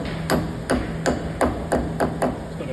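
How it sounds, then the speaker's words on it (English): Hammer gently tapping a new wheel bearing nut cover into place on a 2017-2020 Ford F150 4x4 front hub, with seven light, evenly spaced metallic taps, close and clear, no talking. "Just going to gently tap that in."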